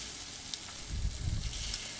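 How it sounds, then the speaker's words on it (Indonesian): Cassava leaf rolls fry in hot oil with a steady soft sizzle and a brief swell of bubbling in the middle, heard close up with no one talking. "Dan hati-hati saat menggoreng,"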